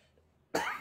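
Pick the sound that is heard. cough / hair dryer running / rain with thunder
cough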